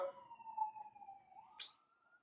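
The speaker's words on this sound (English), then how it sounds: "as y'all hear in the background, a siren is going away" A distant emergency siren wails in a falling, fading tone as it moves away, with a short burst of higher noise near the end and no speech.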